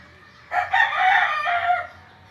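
A gamefowl rooster crows once, a single drawn-out call heard fairly close with a short break partway through, over faint background noise.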